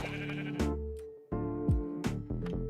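Sheep in the King's Craft video game bleating several times in quick succession, loud and close, each cry wavering and nasal, with no talk over it.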